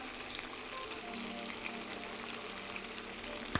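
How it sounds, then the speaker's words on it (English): Eggs cracked into a hot pan of pad thai noodles fry with a steady, close hiss and crackle that holds evenly throughout, ending with a brief knock at the very end. "And I've got to crack some eggs into there."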